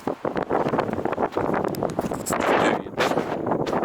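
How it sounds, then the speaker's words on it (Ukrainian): Strong wind buffets the microphone in loud, continuous gusts at the Will Rogers Shrine of the Sun, with a voice talking intermittently underneath. "Вітер так серйозно дує"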